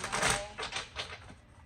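Quick riffling bursts of a tarot deck being shuffled, a few short flurries in close succession, fairly quiet and near.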